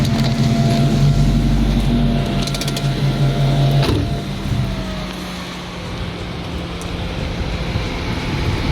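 A Coyote V8-swapped NewEdge Ford Mustang exhaust at low RPM gives a loud, steady, deep rumbling drone with a slight dip midway and no voices.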